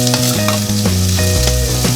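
Chopped onions fry in a pan as the base for a paneer butter masala, giving a steady, continuous sizzle that stays close and even throughout, with no talking.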